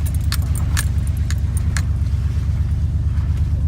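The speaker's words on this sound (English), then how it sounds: "I'm coming on a really bumpy driveway here." A 1990s Chevy C/K1500 pickup rolls over a bumpy driveway, its steady low engine rumble filling the cabin while loose keys jangle and rattle in bursts early on, then settle.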